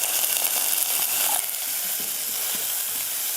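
Chopped shallots, green chilies, curry leaves and a pinch of asafoetida sizzle steadily in hot oil in a pan, with a bright continuous crackle and faint stirring clicks, no voices.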